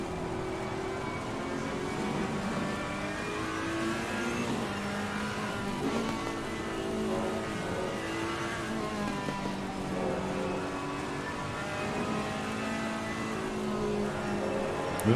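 Ferrari and Aston Martin cars racing wheel to wheel at Suzuka in a sim racing game, with steady engine drone and shifting tones running continuously at moderate level throughout.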